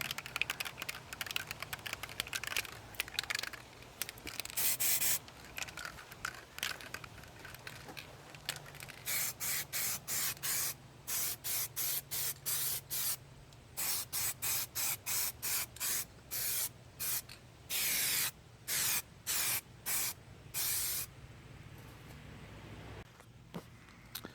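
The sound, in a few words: aerosol primer being sprayed onto a fiberglassed truck cab corner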